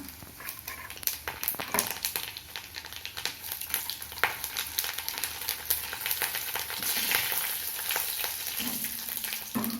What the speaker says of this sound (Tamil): எண்ணெய் காஞ்சிடுது கடுகு உளுத்தம் பருப்பு தாளிச்சிக்கலாம்